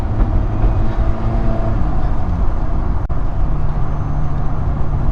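A car with a dual clutch transmission drives along, a steady low engine and road rumble with tire noise, close and continuous, briefly interrupted by a faint click.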